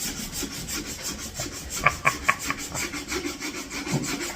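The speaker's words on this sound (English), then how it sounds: "Can you turn the noise level that sandpaper is making down?" Sandpaper rubbed over pallet wood for a guitar build, a close rhythmic scratchy rasp of quick repeated strokes, with a few sharper knocks partway through and no voices.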